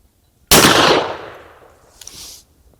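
A single sharp, loud gunshot from a Rossi Brawler revolver firing a Grizzly .45 Long Colt round, its blast decaying into a long ringing tail with a faint metallic clink near the end.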